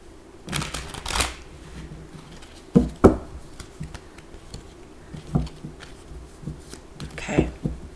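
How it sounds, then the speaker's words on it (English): Tarot cards shuffled by hand in several quick bursts of riffling and patting, close and fairly loud, separated by short pauses, with no talking. "one more shuffle"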